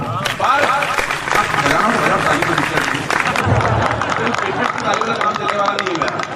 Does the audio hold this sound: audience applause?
yes